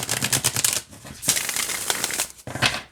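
A Hocus Pocus tarot deck is shuffled in quick papery bursts of riffling cards, close and crisp, with short pauses between the flurries.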